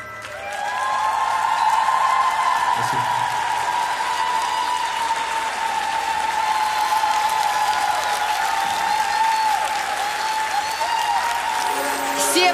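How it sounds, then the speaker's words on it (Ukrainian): Audience applause in the X-Factor hall, a sustained loud wash of clapping from a large crowd under cheering and a voice over a public address system. "ваші оплески"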